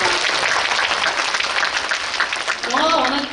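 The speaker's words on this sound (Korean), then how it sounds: "큰 박수 부탁드립니다." A Korean film premiere-eve event audience applauds, a steady wash of clapping that carries throughout with voices speaking over it near the end.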